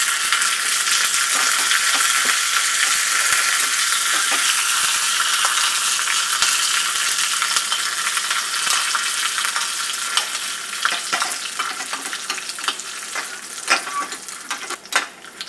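Curry leaves crackle and sizzle steadily in a hot pan for a Kerala-style masoor dal with pumpkin, with a continuous loud hiss of frying broken by faint scraping and stirring clicks.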